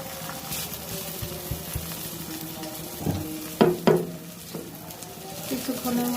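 Spices frying with browning onions in a pan make a soft, continuous sizzle, joined midway by a few sharp clanks and scrapes of a utensil against the pan.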